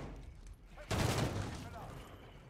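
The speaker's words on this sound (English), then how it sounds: "Whatever shotgun he was using then" Shotgun gunfire in a first-person shooter game, a sudden loud blast with a rumbling tail that lingers and decays over a second or so, following fainter noise.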